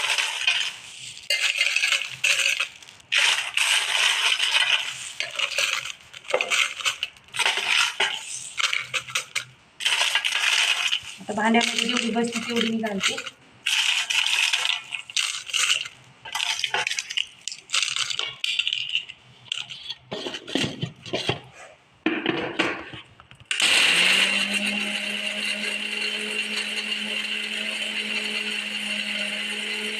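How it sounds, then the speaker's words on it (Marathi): Mixer grinder grinding dried red chillies into powder: loud clattering pulses and rattles as the pieces tumble in the jar, someone speaking briefly in between, then a steady motor whir near the end. "बाकीची मिक्सरला फिरवून घेते"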